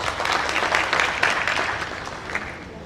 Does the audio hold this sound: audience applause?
yes